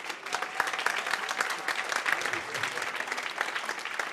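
An audience at a Mount Kenya University law programme launch applauds the Pro-Chancellor with steady, dense clapping that fills the whole stretch evenly.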